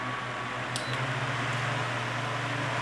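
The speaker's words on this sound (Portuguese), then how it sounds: "tá aqui o ventilador já funcionando direitinho" A Mallory electric fan with a replacement propeller, the old one having arrived warped, runs steadily with a low motor hum and a broad airy whoosh, close by and continuous with no speech.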